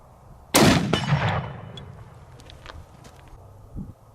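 A single sharp, loud crack from a .300 Win Mag Accuracy International Mk13 sniper rifle fitted with a Vortex scope, followed by a rolling echo that fades over a few seconds outdoors.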